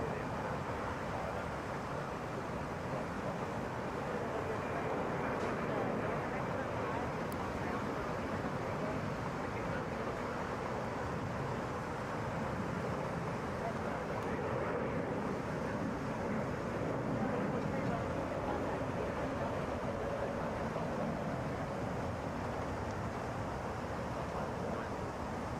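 A Delta Boeing 717 takes off from Atlanta's international airport, its engines producing a steady, broad roar that holds for the whole stretch with wind noise mixed in.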